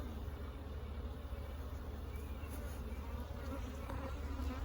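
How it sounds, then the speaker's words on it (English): Dense, continuous buzzing of many honeybees close by at an open hive, a steady droning hum with no voices. "There's a lot of bees on them right there."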